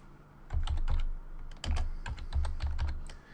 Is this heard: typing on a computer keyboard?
yes